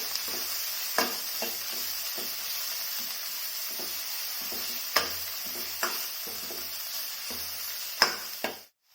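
Red spinach being stirred into a Kerala-style moong dal curry in a pan: a soft, steady simmering hiss broken by repeated spoon scrapes and clacks against the pan, about one every second or so.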